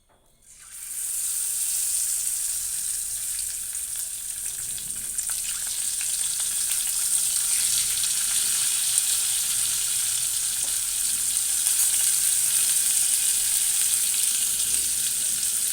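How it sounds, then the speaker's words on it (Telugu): Boiled, peeled eggs fry in hot oil with a bright, continuous sizzle that rises quickly at the start and then holds steady and fairly loud, with no voices over it. "ఇప్పుడు వీటిని ఈ నూనెలో వేయించుకుందాము."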